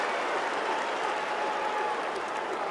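A massive Australian football crowd at the Telstra Dome applauds and cheers a goal during an AFL match between Carlton and North Melbourne, a dense, steady roar of clapping filling the stadium, loud and continuous.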